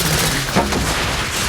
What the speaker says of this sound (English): the sound of gunfire is heard coming from outside